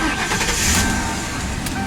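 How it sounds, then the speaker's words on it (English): Ford Crown Victoria Police Interceptor engine cranking and catching, a brief loud close whir that settles into a steady running rumble. "let's start her up"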